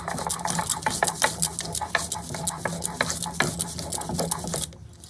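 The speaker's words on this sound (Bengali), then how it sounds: "এবার আমি ভাজা মশলাগুলোকে শিলে বেটে নেব" Fried spices being ground by hand on a flat grinding stone, a rapid run of close, gritty rubbing and knocking strokes in a steady rhythm that stops abruptly near the end, with no talk.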